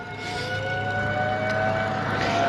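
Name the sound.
town's noon civil defense siren test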